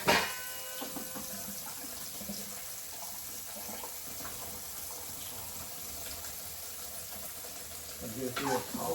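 Hominy and water poured through a colander into a sink drain while canning hominy with lye: a steady, close rush of splashing water that runs continuously and ends with a louder final gush.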